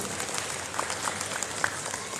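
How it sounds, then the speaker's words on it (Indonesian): An audience at an Islamic women's gathering applauds for a hijab community group, brisk continuous clapping from a crowd with a few sharper claps standing out. "Tepuk tangan buat Hijabers Community"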